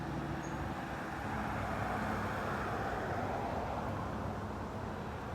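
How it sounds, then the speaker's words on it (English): Steady evening road traffic rolls past in a continuous low rumble of cars and heavier vehicles, moderately distant and unbroken, with no voices. "there's a lot of traffic this evening"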